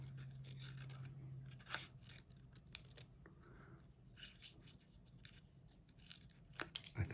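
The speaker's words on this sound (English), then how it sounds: "Do you see me taking time and trying to cut things as nice as I can?" Paper snips and rustles as scissors cut out a shape for a craft reindeer, with short intermittent cuts, close and fairly quiet, and a low hum underneath.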